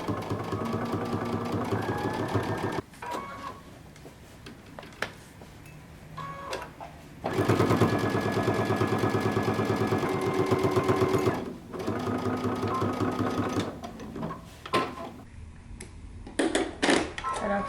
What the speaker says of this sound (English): you're going to sew a top stitch all the way around